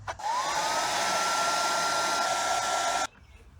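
A heat gun blows steadily for about three seconds while shrinking heat shrink tubing over two wires on a shore power distribution tray, a loud even whoosh with a faint whine that rises at the start, then stops abruptly.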